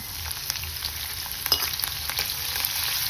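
Asafoetida and two or three green chillies frying in hot oil for eggplant bharta, a steady close sizzle with small crackles and a few sharper pops, no talking.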